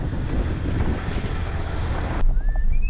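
Jeep pushing through water on a four-wheel-drive track near Davies Creek in Far North Queensland, with loud rushing, sloshing water and engine noise that cuts off abruptly, followed by quieter ambience and a faint whistle-like tone.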